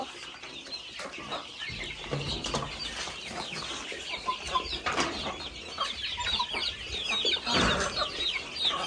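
Chickens cluck busily up close, with a rooster's calls and occasional wing flaps over a continuous farmyard background.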